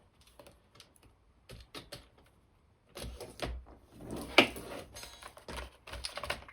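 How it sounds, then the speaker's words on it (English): A craft knife or trimmer slicing the laminated edge off a letter-size cardstock sheet, heard as faint scattered clicks and short scraping cuts that grow busier and louder toward the end, with no talk. "so I'm just gonna go ahead and trim that."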